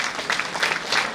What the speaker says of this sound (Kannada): ಜೋರಾದ ಚಪ್ಪಾಳೆಯ ಮೂಲಕ ಎಲ್ಲರೂ